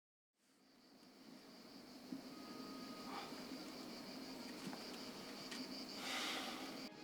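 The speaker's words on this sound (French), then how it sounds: "Le petit bruit des grillons comme ça le matin" Faint crickets chirp in the morning in a soft, steady background hiss, with occasional brief clicks and a slight swell near the end; no voices.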